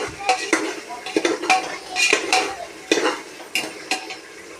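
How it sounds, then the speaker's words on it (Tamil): Masala of chilli powder, cinnamon, cardamom powder and salt is stirred in hot oil in a pot for biryani. A spoon scrapes and clanks against the pot in an irregular rhythm over a soft, steady sizzle, close and clear. "இப்போ மிளகாத்தூள் பட்டை ஏலக்காய் பொடி உப்பு எல்லாமே போட்டிருக்கேன் மசாலா நல்லா வணங்கட்டும்"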